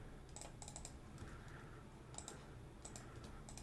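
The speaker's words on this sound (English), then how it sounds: "type in your API key access there" Keys clicking on a computer keyboard as an API key is typed, a quiet, close patter of irregular taps in short clusters with brief pauses and no talking.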